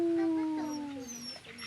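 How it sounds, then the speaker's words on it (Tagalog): A single dog lets out a long, close howl that slowly falls in pitch and fades at the end. "Ang kaibigan ko na aso."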